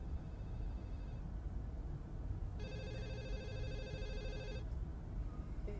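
An incoming call makes a telephone ring in bursts of electronic trilling, with a short ring and then a longer one after a gap, faint under a steady background hiss in a broadcast studio.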